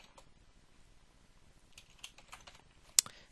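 Soft typing on a computer keyboard during a CorelDRAW print-merge setup, an irregular run of light key clicks close by that ends in one sharper, louder tap.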